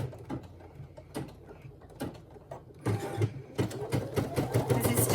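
Sewing machine stitching back over fabric, running in short bursts with clicks and pauses, then a denser mechanical whirring toward the end, close and moderately loud, with no talk.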